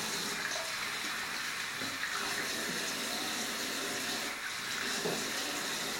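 Hot water runs from a tap into a sink before a wet shave, a steady, moderately quiet rushing stream that continues evenly without talk.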